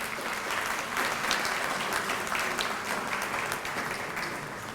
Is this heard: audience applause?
yes